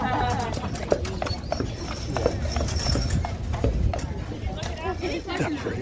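Horse hooves clip-clop in a steady, moderately loud rhythm from a horse-drawn carriage ride, with people talking over the walking beat and general outdoor background noise.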